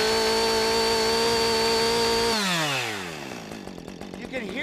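Chainsaw with a carburetor adjusted on the high-speed H screw, held at full speed with a steady high whine and a slightly rough, raspy edge, then released so the engine winds down, loud and close.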